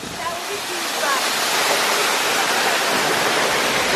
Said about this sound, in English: So this is the baby Teganungan waterfall.